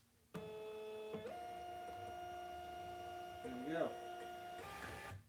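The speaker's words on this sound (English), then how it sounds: "Okay, so here's how the printer works." A printer hums and whirs steadily as it feeds out a shipping label, with a brief mechanical shift partway and a short spoken remark near the end.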